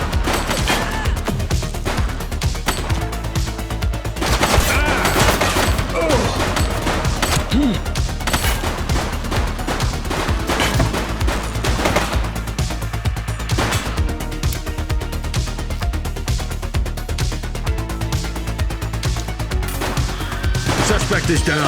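Gunfire in The Precinct police video game, dense repeated shots and bursts throughout amid loud street action, with voices shouting over it.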